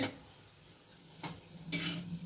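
Pantua sweets frying in a pan while being stirred, a faint low sizzle broken by two brief bursts of scraping and clinking from the stirring utensil, close and quiet.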